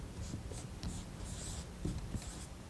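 Pen strokes scratch across paper as math notation is written by hand, a quiet sequence of short rubbing scrapes and taps in irregular bursts, close and alone.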